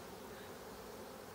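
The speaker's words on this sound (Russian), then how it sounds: "Не очень комфортно, когда прям в сеточку пчелы пытаются атаковать." Honey bees buzz close around a beekeeper's mesh veil at an apiery, a faint, continuous whirring drone with no voices.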